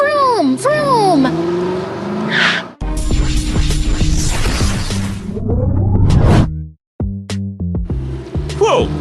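A cartoon police car zooms off like a rocket, with whooshing, revving effects mixed among bright music and animated voices, cut into loud shifting segments with a brief silent break.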